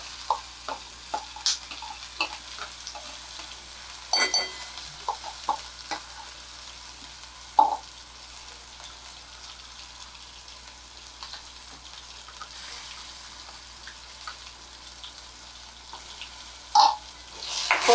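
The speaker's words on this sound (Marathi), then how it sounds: "थोडंसं परतून घेऊया हे." Ground masala paste sizzling as it is sautéed with mushrooms for a restaurant-style mushroom masala, a soft steady frying hiss with occasional stirring clinks and scrapes, close by and without talk.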